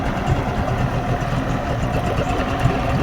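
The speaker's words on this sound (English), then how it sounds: "It is very smooth little two-stroke." A 2004 Mercury 60 hp two-stroke outboard engine idles smoothly after a dyno tune, a steady low burbling drone with even pulses and no voices over it.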